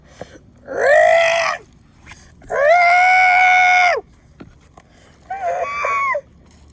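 A human voice imitates a dinosaur yelling, three loud drawn-out screeching roars separated by short pauses, the last one shorter and wavering, close and with no other talk.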